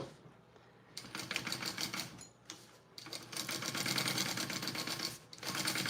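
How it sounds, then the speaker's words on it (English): Sewing machine stitching long basting lines through quilt layers for a Roadie bag, running in steady bursts of rapid needle clatter with brief pauses between, close and fairly loud. "now I'm gonna baste these layers together"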